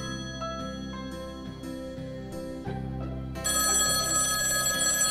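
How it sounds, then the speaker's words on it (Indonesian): A telephone rings loud and continuously, a tonal ringtone melody that gets louder and fuller partway through, with no voices. "Kok ada telepon masuk?"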